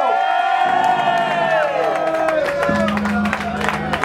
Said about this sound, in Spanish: No oigo ese aplauso para Tito